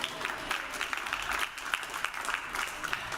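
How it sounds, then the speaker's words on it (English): Audience applause at a live research performance in Cairns, a dense patter of many hands clapping steadily and fairly close, with no one talking over it. "Give her a clap, ladies and gentlemen"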